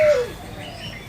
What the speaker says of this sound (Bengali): অনবরত ঘুঘু পাখি ডাকছে